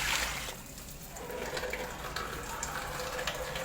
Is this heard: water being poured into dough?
yes